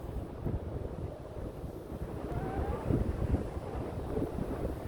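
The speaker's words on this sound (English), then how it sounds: "It's kind of windy." Steady wind buffets the microphone with a low rumbling roar throughout, gusting slightly louder midway, with no clear speech, outdoors in a neighborhood with Twin Peaks in view.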